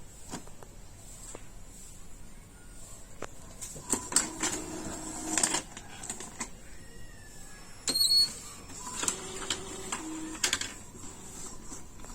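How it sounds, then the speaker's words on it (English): An Epson printer running a manual nozzle check print, quiet intermittent mechanical whirs, clicks and short bursts of motor noise from the print head and paper feed, close by with no talking. "then it will perform a manual nozzle check."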